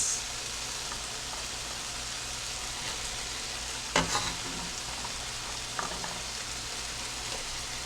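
Asparagus hitting a hot pan of chicken noodle stir fry with broccoli: a steady, close hiss of frying with a few sharp clatters and stirring scrapes, no talking.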